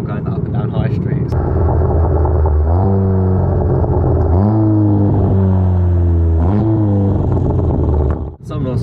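A modified VW Golf GTI Clubsport Edition 40 with a loud Remus exhaust revs repeatedly, rising and falling in three or four strong sweeps over a steady idle rumble, loud and close, with a sharp pop near the end.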